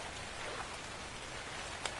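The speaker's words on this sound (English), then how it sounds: "Oh, raining." Steady rain hisses across the whole stretch inside a survival video game, a dense, even wash of falling drops with one brief sharper patter near the end, no voices over it.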